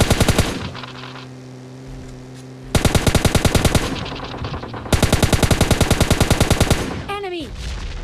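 M4 rifle gunfire in a mobile-style shooter game, heard as a short burst, a pause, then two long rapid automatic bursts, loud and close, ending with a descending whistle-like sound.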